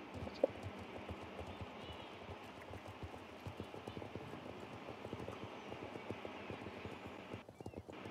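Horse hooves clip-clop in a steady, quick rhythm, fairly quiet and continuous, with a faint ambient bed behind them, from the video game Star Stable Online.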